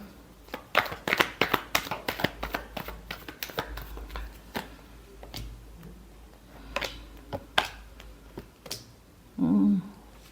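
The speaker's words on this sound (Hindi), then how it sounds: "Last shuffle." Tarot cards are shuffled by hand in quick bursts of papery riffles and taps, close and fairly quiet, with a short murmur of voice near the end.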